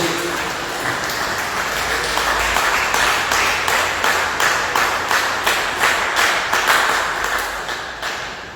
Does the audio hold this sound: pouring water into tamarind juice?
no